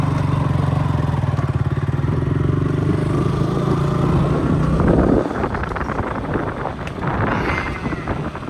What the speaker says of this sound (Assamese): লগতো চলাবলৈ দিছোঁ বাইকখন